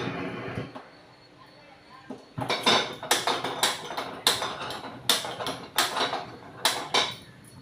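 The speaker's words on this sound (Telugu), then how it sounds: "కళాయి పెట్టి గ్యాస్ వెలిగించుకోవాలి" A kadai pan is set down on a gas stove, with clanks of metal on the burner, then a run of sharp, evenly spaced clicks and knocks as the gas is lit, close and fairly loud.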